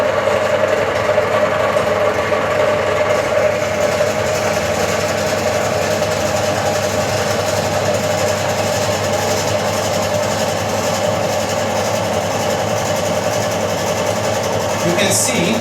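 A friction test machine running with the handle being pulled, used to test fourth-generation engine oil additives: a steady, loud mechanical whir and hum that holds constant throughout, with no voices.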